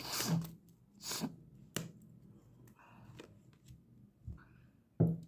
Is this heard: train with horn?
no